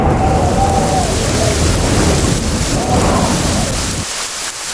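A storm sound effect of heavy rain and gale-force wind roars steadily around a rickety old shed, with low rumbling thunder and gusting swells before the noise thins out near the end.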